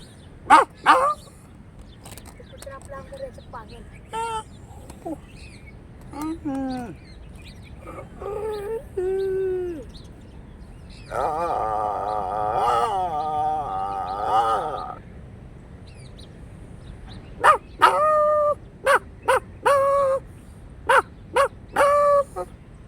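A person imitates a dog, yelping short barks and drawn-out whining howls in bursts, loud and close, with pauses between.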